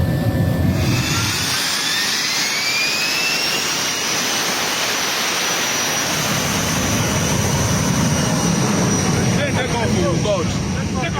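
A jet airliner roars steadily throughout, loud and close, with rising whine tones suggesting takeoff; a crowd's voices and shouts sit beneath and over the engine noise.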